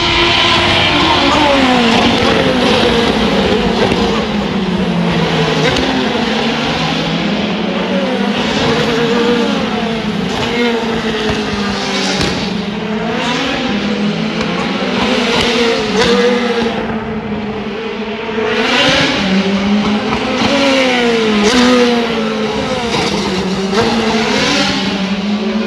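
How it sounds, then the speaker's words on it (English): Race car engines roar out of turn two at a track, a sustained loud high-pitched whine with rising and falling pitch as drivers get on the throttle, several cars blending together without a break. "Charles is getting down the throttle coming out of turn number 2"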